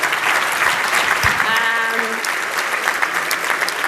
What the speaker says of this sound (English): please, a big round of applause for Matteo Renzi